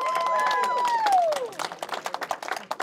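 An audience at an anime game-show panel breaks into clapping and cheering; a whooping voice rises over the crowd, then distinct claps continue in a loose rhythm.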